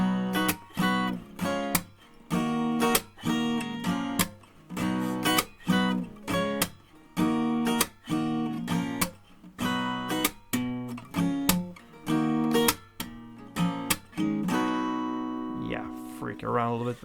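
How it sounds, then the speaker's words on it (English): Acoustic guitar chords of a song strummed in a steady, repeating rhythm, punctuated by sharp hand claps between strums; close and fairly loud, ending with a brief ringing chord. "that is how you handle the chords and strumming."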